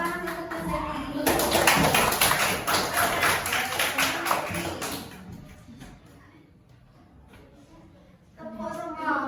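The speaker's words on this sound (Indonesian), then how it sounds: "Tepuk tangan untuk Mas Denny dulu." Classroom of primary-school children applauding a classmate, a dense burst of clapping lasting several seconds and fading out, with speech before and after.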